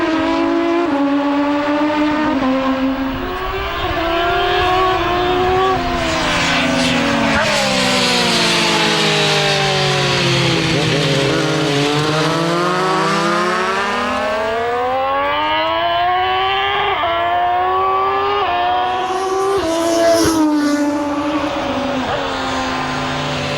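The Foggy Petronas racing motorcycle screams past on track, its high engine note rising and falling in long sweeps through gear changes, loud and continuous from start to finish.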